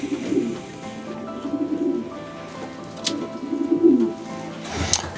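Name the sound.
racing pigeon cooing while being caught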